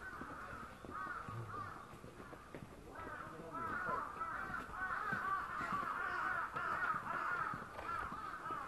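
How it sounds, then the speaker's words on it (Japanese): Crows caw repeatedly at a Shinto shrine complex, Fushimi Inari Taisha, calls coming in clusters through the clip over footsteps and a busy outdoor background, with people talking nearby. "カラスが。"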